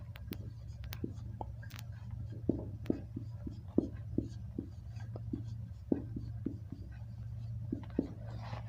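Pen or marker writing by hand while working a geometry problem, giving a steady run of small scratchy strokes and taps over a low constant hum, with no talking.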